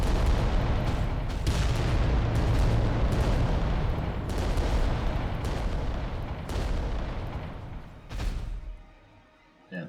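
Apocalypse Launcher artillery fire in Adeptus Titanicus: Dominus, a dense barrage of loud booms and bursts that rolls on for most of the stretch before dropping away near the end.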